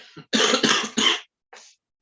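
A short burst of three harsh coughs close up, followed by a faint fourth cough after a brief pause.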